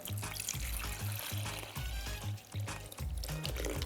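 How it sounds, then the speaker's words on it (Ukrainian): Cold water poured into a vessel over freshly cut soft-stemmed flowers for an arrangement, a continuous splashing, gurgling pour that is close and fairly loud throughout, with no voices. "І заливаємо холодною водою."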